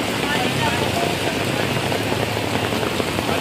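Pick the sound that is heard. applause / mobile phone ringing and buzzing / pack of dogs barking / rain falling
rain falling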